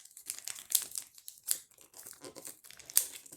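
Paper being folded into an eight-blade shuriken ttakji, a Korean paper toy, with soft crinkles and crisp creasing snaps spread unevenly through the clip, close and fairly quiet, no talking.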